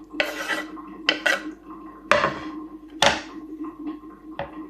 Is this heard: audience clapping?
no